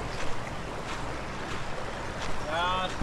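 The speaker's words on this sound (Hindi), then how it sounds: "और पानी की आवाज़ सुन के तो मज़ा ही आ गया" A Ganges tributary near Rishikesh rushes past in a steady, close broadband roar, with gusts of wind buffeting the microphone and a brief high chirp near the end.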